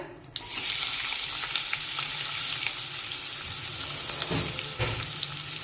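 Finely chopped onions fry over a medium flame in a pan for a dry brinjal curry: a sudden burst of loud, dense sizzling hiss that holds steady and close, with a few soft stirring knocks.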